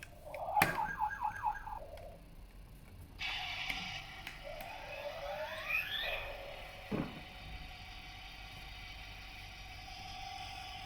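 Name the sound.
toy fire truck siren sound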